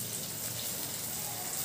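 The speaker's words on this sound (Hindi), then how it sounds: "मीन्स अच्छे से मसाला भून जाए, इसमें थोड़ी सी पानी ऐड करेंगे" Water poured into a pan of frying masala for khichdi, a steady hissing splash and sizzle filling the short span without a break, close and moderately loud.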